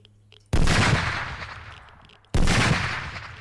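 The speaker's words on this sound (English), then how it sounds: "Can you even hear me when the gun is shooting?" Gun firing in the zombie survival game SurrounDead: two loud, sudden bursts of automatic fire, each starting sharply and decaying into a long echoing tail, with near silence before the first.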